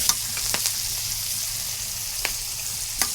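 Steaks frying in a pan with garlic butter, a loud steady sizzle close by, marked by a few brief clinks and scrapes of a utensil.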